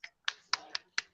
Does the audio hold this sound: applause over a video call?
yes